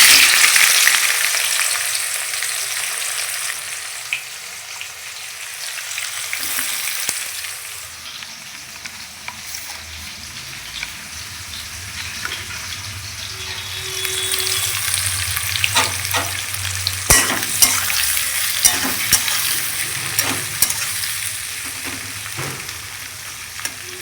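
Onions frying in mustard oil with whole garam masala, a loud continuous sizzle with frequent stirring scrapes and spoon knocks against the pan, growing busier toward the end.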